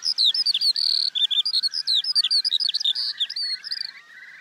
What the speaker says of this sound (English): Can't hear anything else, only the skylark.